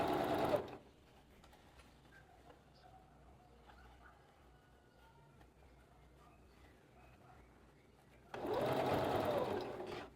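A sewing machine runs a French seam in two loud, fast bursts of stitching at the start and end, separated by a long quiet stretch of faint handling noise.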